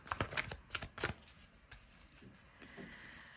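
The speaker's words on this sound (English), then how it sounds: "I'm going to shuffle these a little bit" Tarot cards are shuffled in several quick, crisp riffles close by and quietly, followed by softer rustling and a few light taps in a calm room.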